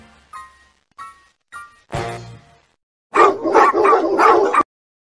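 Puppies yip in a few short, spaced barks, then break into a louder run of rapid overlapping barking and whimpering close by.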